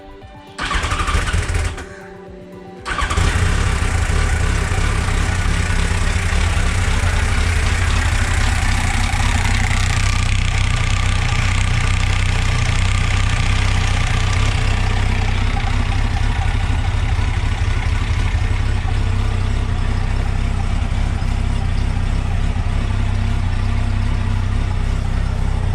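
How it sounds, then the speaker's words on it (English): A Yamaha FZ1 motorcycle engine cranks briefly, then catches and settles into a steady, loud idle that runs close by without interruption, with no talking over it. "Let's crank the engine."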